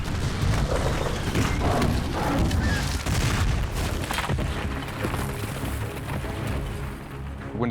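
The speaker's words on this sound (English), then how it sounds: "When the Turks open up fire on Castle Dracula, Vlad, now imbued with these new powers" Dense battle effects of the Turkish army firing on Castle Dracula: heavy booms, crashing impacts and volleys of gunfire layered into a loud, continuous barrage that thins slightly near the end.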